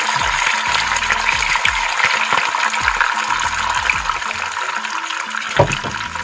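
A glass of water poured into a pot of seafood linguine in a Magic Cooker gives a steady, close rushing splash lasting several seconds over soft rhythmic background music.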